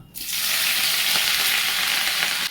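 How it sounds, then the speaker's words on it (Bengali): Grated ginger and broken green chillies hit hot oil in a kadai, giving a loud, steady sizzle that starts abruptly and holds evenly throughout with no voices. "কড়াই তেলটা গরম হয়ে গেছে দিয়ে দেবো আদা কুড়োনো ও কাঁচা লঙ্কা ভাঙা"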